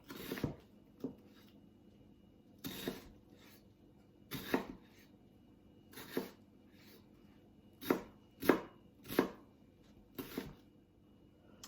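Onion being chopped on a board for a vegan jambalaya: a dozen or so sharp knife strokes, some single and some in quick pairs, close and fairly loud over a quiet room.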